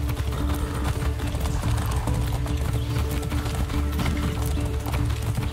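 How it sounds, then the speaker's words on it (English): Horse hooves gallop steadily in the video game Far Cry 6 in a fast, continuous clip-clop over a dense rumbling background, with an occasional whinny. "This horse ride is making me feel dizzy."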